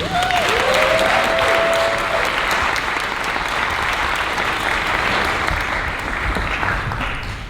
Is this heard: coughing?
no